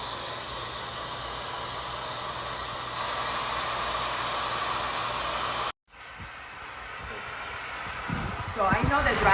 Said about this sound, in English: So I know the dryer is going